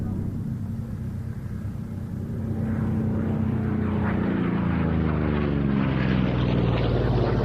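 A Corsair propeller aircraft flying at the Duxford flying day, its steady loud propeller drone swelling as it passes, with a faint voice underneath.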